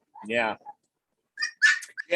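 Several fostered dogs in a home; one gives a short, fairly loud whimper lasting about half a second, followed by a brief quiet yip, then people talk after a pause.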